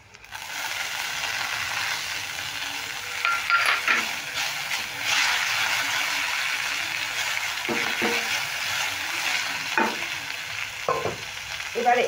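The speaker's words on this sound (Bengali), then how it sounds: "এবার এগুলো নেড়ে একটু ভেজে নিলাম" Semolina is stirred and lightly fried in a pan, giving a steady close sizzle with scraping spoon strokes and a few sharper clicks against the metal, with no one speaking.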